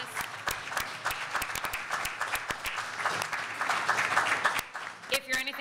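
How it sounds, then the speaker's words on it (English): A conference audience applauds a panel at an AI session, with dense, sustained clapping from a fairly large crowd that rises slightly toward the end before fading, and a few sharper individual claps stand out near the close. "let's give a round of applause for our panelists"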